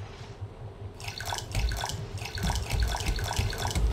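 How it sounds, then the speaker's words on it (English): Collected water poured onto crops in the survival video game Raft, a faint quiet start followed by a steady splashing, dripping pour that grows louder over a low background hum. "what I'm gonna do is just water with what I got"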